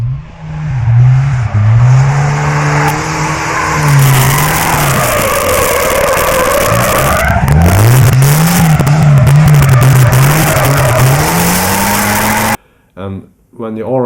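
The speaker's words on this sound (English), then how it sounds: "when the car are coming closer, it may be too much noise" Cars pass close by, their loud engine tones rising and falling in pitch as each approaches and moves away, with a brief cut to near silence at the end.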